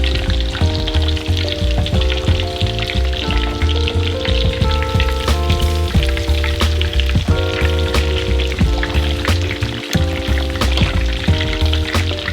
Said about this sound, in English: carefully place Wang Donkasu into the hot oil